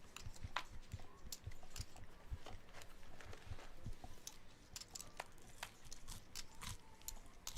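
Crunchy snack being chewed close to the microphone, a steady stream of dense crunching and biting noises throughout, without speech.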